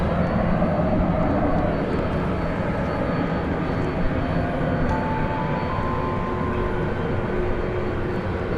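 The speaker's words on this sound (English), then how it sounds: "Here comes that 767 on its way to Ontario, California." A Boeing 767 airliner passes at DFW Airport at night, its engines a loud, steady broadband roar that holds throughout with a faint tonal whine rising partway through.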